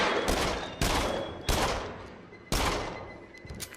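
Four sharp, loud gunshots from the VR shooter game Rush of Blood ring out at irregular intervals, each one trailing into a long reverberant decay.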